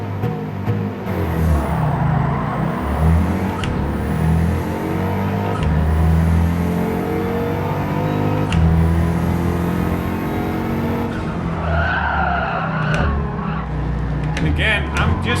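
Race car in Gran Turismo 7 racing with engine drone and revs, tire noise and braking squeal, a skid near the end, under continuous game audio with someone talking over it.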